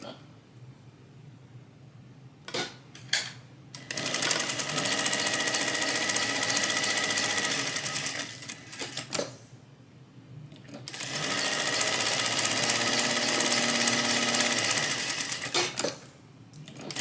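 A sewing machine back stitches a tote bag seam in two long, steady whirring runs, each started and stopped with short bursts and clicks, loud and close with quiet gaps between.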